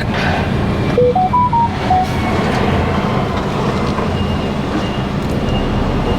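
A truck rumbles past in a dusty yard, a loud, steady low engine drone close by, with a short series of rising electronic beeps near the start.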